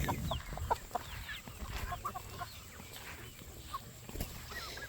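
Farm chickens cluck and chatter close by, a busy flurry of short overlapping calls from a large flock, with footsteps and some rustling in the background.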